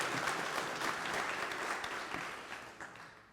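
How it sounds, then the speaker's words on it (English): Sustained audience applause fills a banquet hall at a Rotary Club district installation dinner, dense and steady clapping throughout that tapers slightly toward the end. "Please give Karen a big round of applause."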